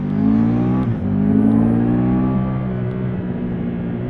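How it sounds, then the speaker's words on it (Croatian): A 2024 Triumph Tiger 1200 Rally Pro motorcycle under way, its engine a loud, close, smooth harmonic drone that rises and eases slightly with throttle, no voices. "Znači ovo je stvarno čudo kako dobro ide ovaj motor."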